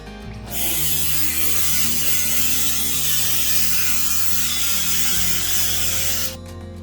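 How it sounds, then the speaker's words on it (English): A small Dremel with a metal cutting wheel grinds through model railway track, a loud, steady high-pitched whine that holds for about six seconds before stopping abruptly. "I used a small Dremel with a metal cutting wheel to cut the track."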